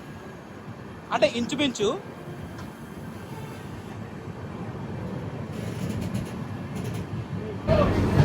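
An Amrit Bharat Express train on the Thiruvananthapuram North to Charlapalli route rumbles steadily and low on its inaugural journey, with someone talking briefly over the continuous onboard noise.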